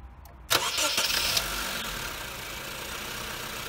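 A Honda Civic FB7 starts up after an oil change: a brief cranking burst, then the engine catches and settles into a steady idle, heard close with no voices.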